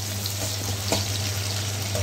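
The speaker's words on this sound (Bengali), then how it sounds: "তো পেঁয়াজটাকে লাল করে ভেজে নিই।" Chopped onions frying in oil in a pan, browning with bay leaves, a steady soft sizzle running evenly throughout with a faint low hum underneath.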